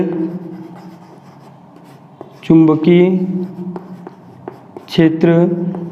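Marker writing on a board during a physics lesson on Ampere's circuital law, with loud squeaky strokes coming in two bursts and quieter scratching between them.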